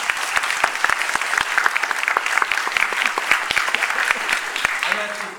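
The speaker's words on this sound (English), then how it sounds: "How about a hand of applause for them?" A moderate crowd applauds the college admissions team, with distinct close claps standing out sharply over a dense layer of clapping that stays fairly even throughout.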